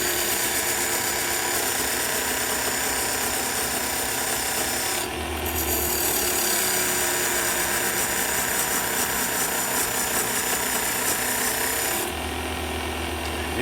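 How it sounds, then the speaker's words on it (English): A wooden Christmas tree ornament spins on a lathe while a parting tool cuts into it, giving a steady, close, continuous rasping scrape with a brief pause midway, then steady cutting again. "You can use your regular parting tool, which is going to be a little wider than this, but it still works."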